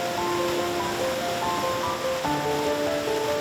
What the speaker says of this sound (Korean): 소칠공 풍경구는 물길을 따라 크고 작은 폭포들이 아기자기하게 펼쳐져 있다.